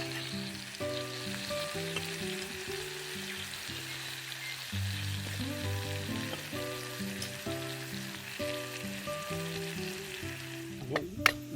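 Leftover tomato and cold potato warm in a frying pan with a steady sizzle, tonal sounds running in the background and a sharp clatter near the end.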